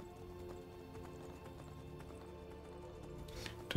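Rhythmic horse hoofbeats clop along at a quiet level with a faint whinny-like sound near the end, heard alone without speech, from the video game Skyrim.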